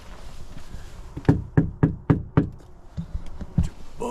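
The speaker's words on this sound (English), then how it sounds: "I'm gonna knock one more time, just to make sure." Knocking on the door of an overgrown house: a series of six sharp, evenly spaced raps followed by one more after a pause, close and distinct over faint outdoor background.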